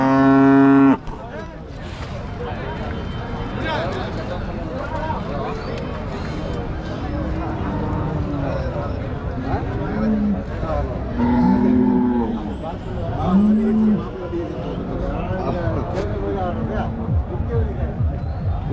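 Cattle at the Karimangalam cattle market in Dharmapuri district low repeatedly, several loud moos rising over a dense crowd babble and people talking nearby.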